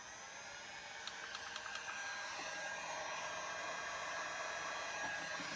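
A heat gun blows hot air over resin for a Dutch pour, a constant steady whooshing hum at low level with a few faint ticks, and no talking.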